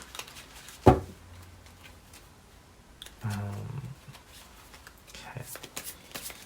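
Cards being shuffled, with a sharp riffle snap followed later by a longer flutter of cards, under light background noise.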